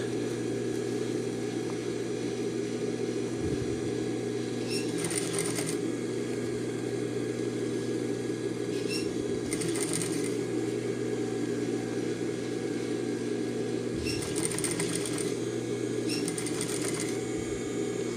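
Steady hum of a sewing machine stitching two layers of jeans fabric, broken by several short bursts of faster rattling stitching at regular intervals; no talking.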